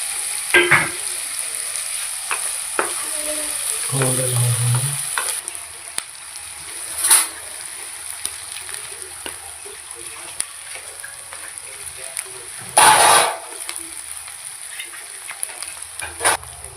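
Onions frying in a pan for an aloo methi sabzi, a steady soft sizzle running throughout with a few brief louder bursts of spatter or stirring.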